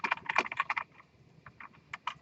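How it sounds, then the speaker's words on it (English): Quick clattering keystrokes on a computer keyboard, a dense burst of clicks followed by a pause and then scattered, slower taps, close and fairly crisp with no talk over them. "I'm going to wind up typing all this into idle in a minute."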